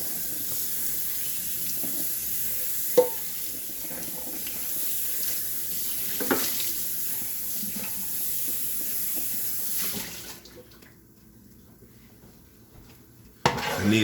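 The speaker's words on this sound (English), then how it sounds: "You got to wash my pot." Running water pours steadily into a sink as a cooking pot is washed, a continuous hiss with a few clunks, then the tap shuts off, leaving quiet before a final knock.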